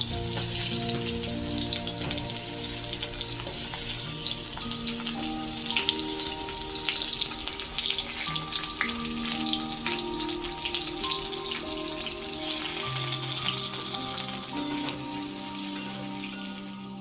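Sliced potatoes and pointed gourd sizzle steadily in hot oil in a wok, a dense close crackling that continues throughout, with a low background hum and no talking.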